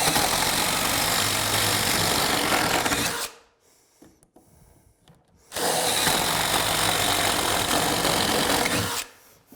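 A Sawzall reciprocating saw cuts through plywood subfloor in two loud, buzzing bursts up close, separated by a short pause.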